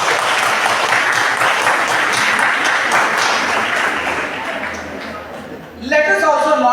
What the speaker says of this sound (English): A big round of applause to everyone who is here.